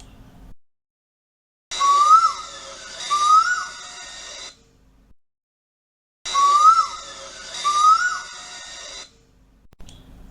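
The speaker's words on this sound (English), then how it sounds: "This is one of the parasitic cuckoos. You'll hear him call all night long, sometimes repeating his call dozens of times." A parasitic cuckoo calls at night in two separate bouts, each a pair of rising whistled notes over a harmonic-rich tone, close and clear against a quiet background with silent gaps between.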